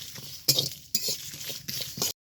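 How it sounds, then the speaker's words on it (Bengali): A utensil scrapes and stirs against a dry pan in a few rhythmic strokes, with dry rattling of roasting spices, chillies, cumin and Gobindobhog rice. "এবার এই মশলাটা খুব ভালো করে ভেজে নেব"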